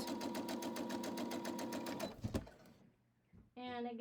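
A sewing machine chain piecing quilt block seams at a quarter-inch allowance, a fast regular stitching rattle for two seconds, then clunks and a pause before a short burst of stitching resumes, with a voice talking partway through.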